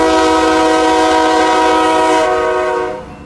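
Loud horn blast from a nearby daily outbound freight train leaving Jacksonville, a sustained chord held for about two seconds and then fading, with a low rumble of the train underneath.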